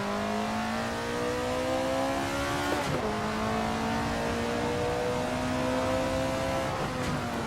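An AC Alfa 33 Stradale race car lapping Laguna Seca in a racing video game, the engine droning steadily, dropping sharply as it shifts, then climbing again through the gears, continuous and close with no talk.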